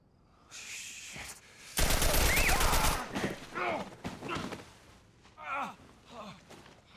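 Gunfire in the video game The Last of Us Part 1, a loud burst of rapid shots around two seconds in with other game noises and sighs or groans around it.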